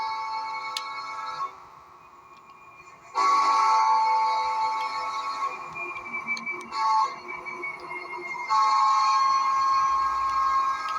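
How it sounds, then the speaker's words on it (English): A train hauled by a BNSF warbonnet-painted locomotive rolls past nearby, a steady rumbling wash with ringing metallic tones and surges as cars go by, no voices over it. "There's a train there."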